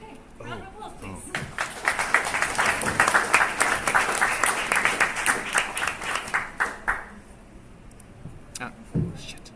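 An audience applauds a presenter at a project presentation event, a burst of many hands clapping that swells over several seconds and then tapers off. A voice speaks briefly before the clapping begins.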